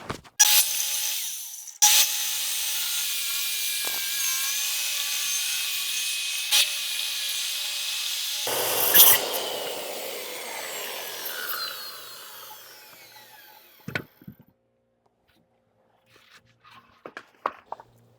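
A power sander whines loudly against wood for about eight seconds, shifts to a rougher grinding, then winds down, followed by a few scattered knocks and clatters.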